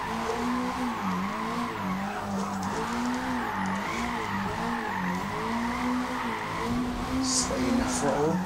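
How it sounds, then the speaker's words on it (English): A 1991 BMW M3 E30 with under 400 horsepower drifts on a wet track in the Forza racing game, its engine droning steadily while tires squeal in long continuous slides, loud and close throughout. "Under 400 horsepower, man, in the wet, drifts like a box."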